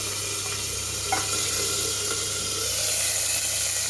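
About two spoonfuls of ginger paste hit hot oil, giving a steady, close sizzling hiss with faint stirring scrapes, continuous and unbroken with no talking.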